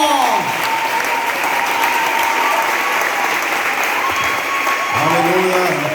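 A church congregation claps and cheers in sustained, dense applause filling the room, with a voice shouting over it at the start and end.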